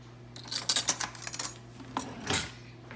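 A metal spoon is grabbed and clatters against dishes and utensils on a kitchen counter, giving a few close, bright clinks and rattles with a short scrape near the end.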